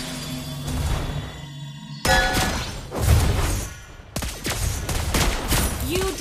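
Turret destruction in the Mobile Legends game: a burst of impacts and crashing game effects with booming thuds and whooshes, dense and loud, with an announcer-style voice layered over the mix.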